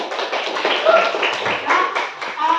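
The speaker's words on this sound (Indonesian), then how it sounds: "kita selalu memberikan aplaus untuk semua kelompok atas hasil yang sudah mereka buat" A class applauds the presenting groups, a short ragged patter of clapping from a small number of people, fairly close, with a voice talking over it.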